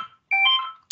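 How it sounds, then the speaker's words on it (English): A mobile phone ringtone goes off during an online council meeting: a short, loud, clear electronic melody of sustained tones, close and alone, followed by a brief high beep. "that's my phone going off"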